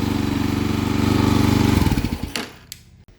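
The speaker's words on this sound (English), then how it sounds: "One problem I need to fix is this heat shield. It seems to rattle." Loud engine idling with a steady rumble and a metallic rattle from a loose heat shield, near and continuous, cutting off into quiet with a couple of faint knocks at the end.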